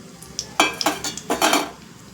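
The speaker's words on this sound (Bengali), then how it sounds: "এটা গরম হয়ে গেছে, লঙ্কা আর তেজপাতা ফোড়নে দিলাম, আর একটু কালো জিরে।" Dried red chilies, bay leaves and nigella seeds hit hot oil and ghee in a pan, giving a few quick crackling sizzles and spattering bursts with light metallic pan clinks, close and moderately loud.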